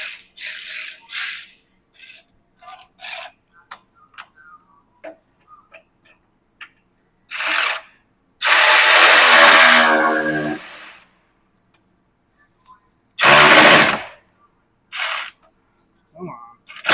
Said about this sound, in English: Just power ratchet out.